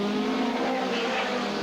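Hot rod race cars lapping a racing circuit at a 1983 team event, a steady dense engine roar holding at constant loudness throughout, with a commentator's voice faintly mixed underneath.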